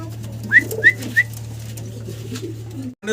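Bombay-breed pigeons at a pigeon farm give three short, bright coos about a third of a second apart over a steady low hum, followed by a quieter stretch.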